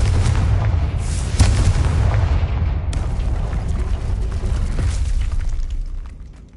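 A Confringo blasting spell explodes in Hogwarts Legacy, a loud, close booming blast with a sharp crack that rumbles on and fades away over several seconds.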